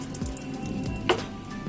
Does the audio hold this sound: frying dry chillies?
yes